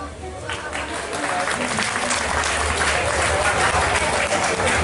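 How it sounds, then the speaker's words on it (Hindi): Audience clapping at a Durga Puja Navami cultural program, a steady, loud wash of applause from a large crowd that lasts the whole stretch, with voices mixed in underneath. "आप लोग तालियां बजा रहे हैं"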